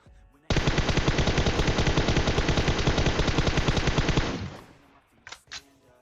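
Automatic weapon gunfire in the mobile battle royale game PUBG Mobile: a loud, sustained rapid burst of shots lasting about four seconds, followed by a few faint, scattered pops.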